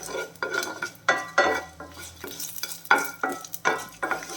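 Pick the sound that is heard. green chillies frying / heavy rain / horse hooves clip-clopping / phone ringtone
green chillies frying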